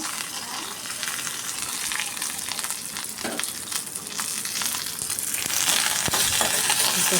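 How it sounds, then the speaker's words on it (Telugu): Oil sizzles and crackles steadily in a pan as spices and curry leaves fry for tempering, with a few sharp pops and stirring scrapes, growing slightly louder toward the end; no talking. "చక్కగా వేగన ఇవ్వాలి పోపు కరివేపాకు కూడా రెండు రెమ్మలు వేసాను"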